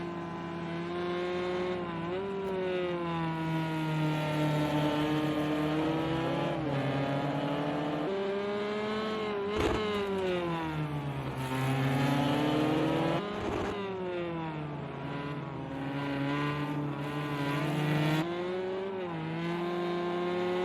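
GTE race cars battling on a racetrack in Spain, including a BMW, with loud engines revving and shifting in sweeping pitch changes throughout, cars passing close by and a brief sharp transient midway.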